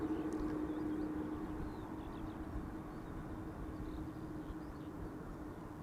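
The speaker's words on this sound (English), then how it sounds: "KLM Flight 644 arriving from New York JFK 777-300ER, 6 hours and 16 minutes on the way." A KLM Boeing 777-300ER, an 11-year-old airliner, arriving at Amsterdam Schiphol after a flight from New York, heard as a steady, broad, fairly distant engine rumble with a low whine, holding level throughout with no talk.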